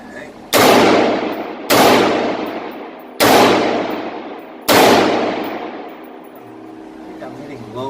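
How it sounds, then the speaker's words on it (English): Four loud, evenly spaced gunshots from a newly assembled AR-15 rifle ring out outdoors, each sharp blast trailing off in a long echoing decay before the next. "So here we go, the first shots of the new AR."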